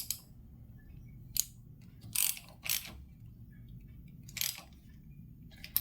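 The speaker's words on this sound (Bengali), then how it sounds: "তো আমরা এই যে এক্সটেনশান 14 নম্বর সকেট আর র্যাচিট দিয়ে" A ratchet with an extension and a 14 mm socket tightens the drain bolt on a Suzuki Gixxer SF motorcycle, giving a few short, close bursts of clicking spaced apart over a low steady hum, with no talking.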